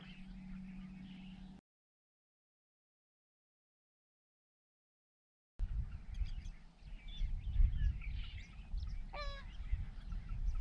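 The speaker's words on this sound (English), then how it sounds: "Sounds like a goose." A bird calls in outdoor swamp surroundings where a pink flamingo is seen from a kayak, a honking, goose-like cry rising in a quick stepped series near the end over steady ambient noise after a silent gap.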